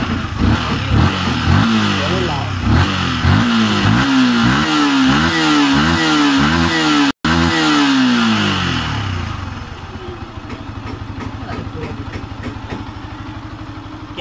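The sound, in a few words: Yamaha R15 motorcycle engine revved slowly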